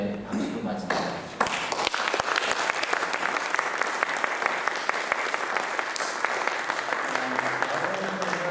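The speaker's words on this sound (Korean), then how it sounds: "박수로 맞습니다." A church congregation applauds at a ceremony honoring a retiring senior pastor, the clapping breaking in loudly after a brief opening voice and then holding steady and full, with a faint voice underneath near the end.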